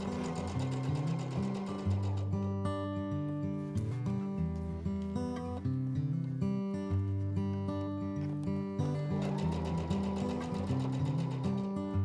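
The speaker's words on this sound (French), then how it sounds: "je vais donc la piquer à la machine" A home sewing machine stitches an inner seam on a crop-top blouse, its close, rhythmic needle clatter running in repeated bursts with brief pauses and speed changes, alone without voices.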